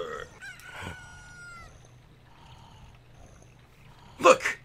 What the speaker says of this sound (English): Chickens are loud.